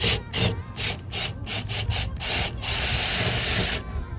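Loud, continuous grinding of a large drill bit boring into a Mustang's rear decklid to fit a wing, with rhythmic surges and brief pauses as it bites through.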